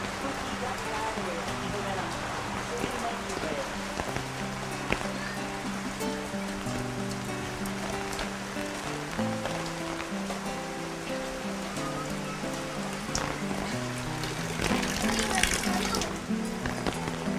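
Steady rain falls throughout, a dense even patter on surfaces with a brief heavier burst near the end, while voices talk over it.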